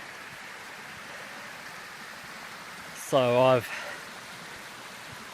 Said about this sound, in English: this water's running a lot better than it was last week